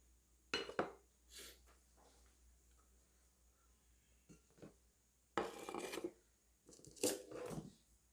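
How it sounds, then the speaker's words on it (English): Sawdust being stirred in a cup during a simple classroom science demonstration, heard as a few soft raspy scrapes and light clinks in scattered bursts, close and fairly quiet with pauses between. "And finally, in the fifth cup, we are mixing sawdust."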